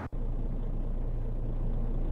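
A Kenworth W900B truck engine in Euro Truck Simulator 2 idles with a steady, close, low rumble after a brief dip at the start.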